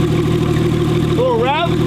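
A Porsche engine idles steadily and close, with a low continuous rumble, and a rising tonal sweep near the end as it picks up.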